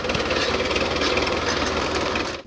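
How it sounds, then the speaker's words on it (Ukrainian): Tractors work a forest plot, ploughing and clearing weeds before new trees are planted, producing a steady, loud engine drone with mechanical rattling that continues without pause. "Наразі сюди вийшли трактори, аби підготувати її під створення нового лісу, прибрати бур'яни та переорати ділянку."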